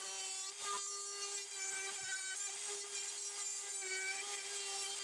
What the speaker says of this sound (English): here I take a chamfering bit and chamfer the edges to give it that classic slanted side lid that you see on coffins